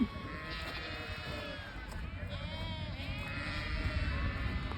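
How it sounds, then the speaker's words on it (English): A large flock of ewes and lambs bleats continuously as they mother up in farm yards, many overlapping calls near and far forming a loud, steady chorus. "And now the ewes and lambs are just mothering up."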